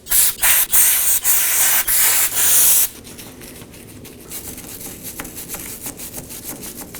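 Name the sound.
wire brush scrubbing wheel hub mating surface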